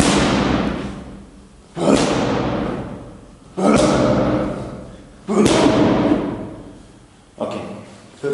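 Hard punches strike a bag or pad in a gym, about five heavy, booming impacts spaced roughly two seconds apart, each ringing out and fading before the next, much like a dropped deadlift barbell. Close and loud, with no speech.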